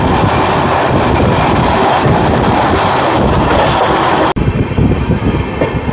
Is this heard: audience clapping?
no